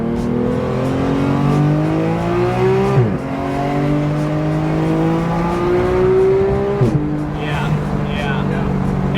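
Porsche 991 GT3 with its naturally aspirated engine pulls hard through rising revs, the pitch climbing steadily then dropping sharply at two quick gear shifts; loud, close interior sound with talk over it.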